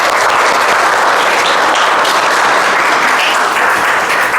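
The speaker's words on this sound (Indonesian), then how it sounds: "Oke, dikasih aplaus untuk Sally." A class of schoolchildren applauding in a classroom, with dense, loud, continuous clapping that holds steady from start to finish.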